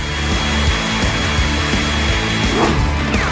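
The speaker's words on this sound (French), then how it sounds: "Comme avec un sèche-cheveux." A hair dryer blowing continuously at close range, a loud broadband whoosh with a rough, slightly rattling texture that holds steady for a few seconds.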